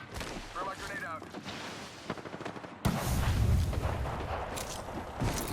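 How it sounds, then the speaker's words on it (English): A frag grenade detonates in a video game with a sudden loud blast that follows a stretch of talking, then a rumbling tail and scattered gunfire continue. "Throw my grenade out."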